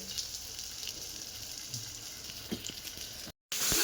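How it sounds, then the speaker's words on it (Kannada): Fish frying in oil over a low flame, a steady soft sizzle with faint crackles and pops throughout, briefly cut by a moment of silence near the end. "ಎಣ್ಣೆ ಹಾಕ್ಕೊಳ್ಳಿ ಫಸ್ಟು. ನೋಡಿ, ಫಿಶ್ನ ಈ ಥರ ಹಾಕ್ಕೊಳ್ಳಿ. ಲೋ ಫ್ಲೇಮಲ್ಲೇ ಮಾಡಿ."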